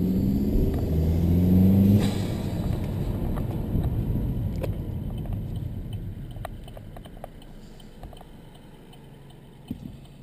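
A 2012 Chevrolet Cruze with a K&N intake accelerates, its engine a low rumbling drone heard from inside that swells early and then gradually fades, with light clicks and road noise.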